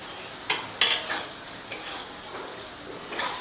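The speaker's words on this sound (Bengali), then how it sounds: "ভেন্ডির সাথে মশলাটাকে ভালো করে মিশিয়ে নেব।" Fried okra being stirred into a yogurt masala in a pan, giving a few scraping spoon strokes over a soft, steady sizzle, close and fairly quiet.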